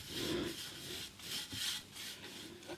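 Wood on a vintage Philips B4X23 radio being hand-sanded with coarse 80 grit paper after a sealer coat: rough, raspy back-and-forth strokes of about half a second each, close and fairly quiet, with no talking.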